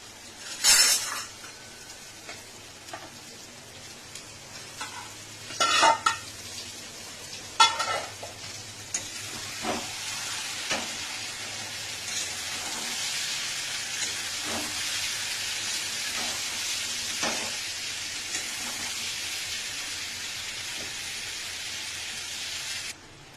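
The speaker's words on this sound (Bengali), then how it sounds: "এই পটলটা এখন এর মধ্যে দিয়ে কষিয়ে নেব।" Cubed pointed gourd (potol) and potato stirred in a sizzling spice paste, a steady hiss of frying with sharp clinks and scrapes of a spoon against the pan at first, then a continuous close sizzle.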